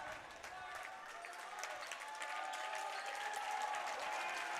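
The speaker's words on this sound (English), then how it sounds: "You can hear the raucous crowd going here at Needham High School in Needham, Massachusetts." A raucous crowd in a high school gym at Needham High School in Needham, Massachusetts, during a boys' volleyball tournament final, with continuous cheering and clapping heard from a distance, steady and building slightly toward the end.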